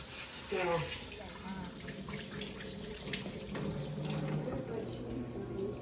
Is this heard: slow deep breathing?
no